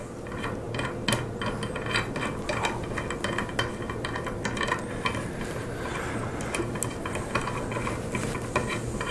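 A jam nut is taken off a Tosa Tool modular clamp, with close, soft ratcheting clicks and metallic threading rattles repeating over a low steady background hum, no talking.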